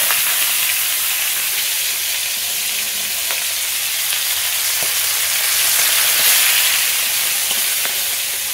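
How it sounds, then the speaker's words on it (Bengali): Fish heads fry in hot oil in a wok, giving a loud, continuous, dense sizzle that holds steady for the whole stretch, with no talking. "তো এবার আমি মাথাগুলো ভেজে নিচ্ছি"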